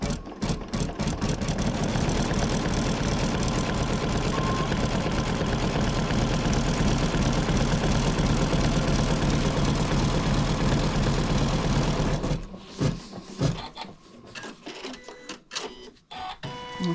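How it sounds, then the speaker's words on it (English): A close embroidery sewing machine top stitches dog poop bags in a single hooping, holding a fast, even mechanical whir for about twelve seconds before cutting out into sparse clicks and handling noise. "So we're going to top stitch this one."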